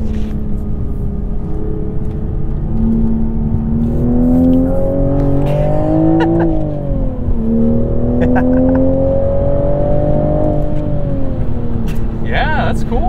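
A 2023 Toyota Supra with a manual gearbox accelerating hard, its engine note climbing through gears with brief dips at the shifts, loud inside the cabin while occupants talk over it.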